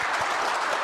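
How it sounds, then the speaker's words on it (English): An audience at a Rankin County emergency communications meeting claps in a dense, steady round of applause, close and loud, with no break. "let's give him a round of applause here."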